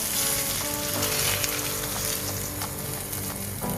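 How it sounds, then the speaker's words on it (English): King fish slices shallow-frying on a tawa for Mangalorean masala fry, a dense continuous sizzle with crackling pops, close and steady throughout, no voices. "Let it fry on both sides for 3 to 4 minutes until it gets a nice golden glaze."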